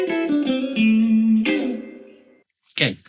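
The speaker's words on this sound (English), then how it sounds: "you're not going to use that much reverb or that much room space" Electric guitar through a Blackstar St. James 6L6 amp on a cab rig with reverb and room set to full, a few sustained chords swelling into a long, wide reverberant tail, followed by a short burst of a voice.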